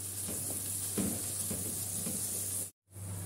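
White cumin seeds fry in hot oil for a potato and egg dish, a steady close sizzle with soft crackles and occasional stirring taps. The sound cuts out briefly near the end, and no one speaks.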